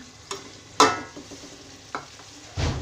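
Green chillies and salt fry for matar pulao, a soft hiss under a few sharp scrapes and clinks of a spoon stirring in the pan, close by and fairly quiet, with no voices.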